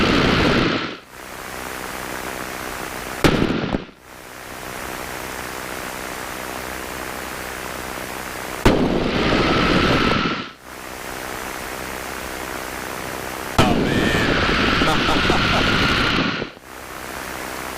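A de Havilland Tiger Moth DH-82A biplane drones in flight, its engine hum buried in loud, steady wind roar that cuts abruptly in and out several times.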